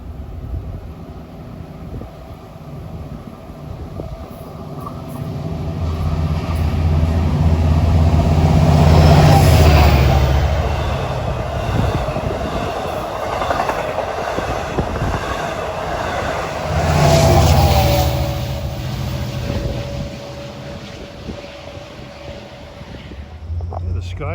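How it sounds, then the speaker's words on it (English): Dual mode passenger train, number 660 from New York to Port Jefferson, racing past on track one, a loud rumbling roar that swells, eases and surges again as the cars go by, with a high rail squeal and a voice talking over it. "here comes our second dual mode set. Train 660 from New York to Port Jefferson. Racing down track number 1."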